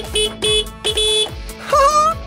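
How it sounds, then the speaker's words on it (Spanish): An excavator's horn is tested in a series of short, loud honks, three or four evenly spaced blasts followed by a longer wavering toot, close and clear with no talking. "vamos a encenderlo y a probar la bocina"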